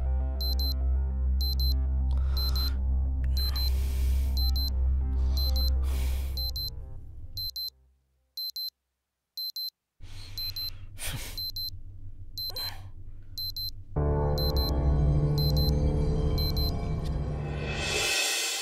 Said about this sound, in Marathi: केव्हापासून अलार्म वाजतोय?